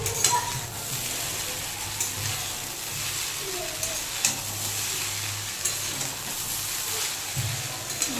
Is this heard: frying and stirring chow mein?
yes